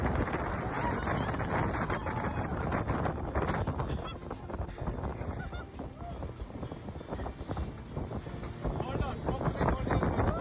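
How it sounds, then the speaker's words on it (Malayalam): Speed boat ride at Musandam, Oman, with a continuous loud roar of engine, rushing water and wind buffeting the microphone, steady and close throughout, with possible voices buried in the noise. "സ്പീഡ് ബോട്ട് നല്ലൊരു എക്സ്പീരിയൻസ് തന്നെയായിരുന്നു"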